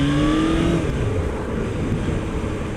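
A 2005 Honda CBF 600 ABS, a carbureted 600cc liquid-cooled inline four, drones steadily while being ridden, heard up close on board with a rising engine note at first and then constant wind and road roar.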